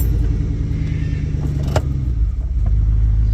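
Stock Dodge Durango on 5-foot-tall tires with 2-foot wheel spacers creeping in first gear, two-wheel drive, a low steady engine rumble at close range with a brief clunk midway.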